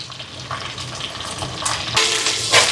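Green chillies, garlic and shallots saute in hot oil in a Jaffna kitchen, giving a close, steady sizzle with occasional stirring scrapes that grow louder toward the end.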